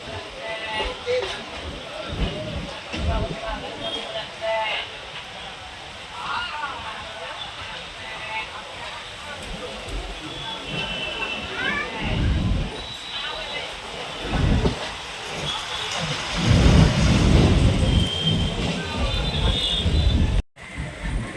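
A MEMU passenger train pulling away from Perambur station on the Chennai to Tirupati line rumbles and rattles continuously from inside, with surges of clattering wheel noise, while a person talks over it.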